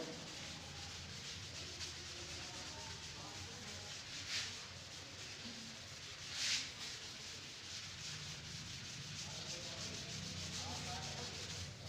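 Steady dry rubbing as writing is wiped from a board during a Class 11 chemistry lesson, a continuous scrubbing texture lasting throughout with two brief louder swipes, no voices.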